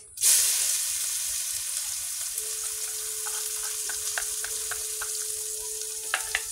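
Onions fry in hot oil with ground spices such as cardamom and clove, producing a steady, loud sizzle throughout, with a faint hum and light clicks of stirring over the hiss.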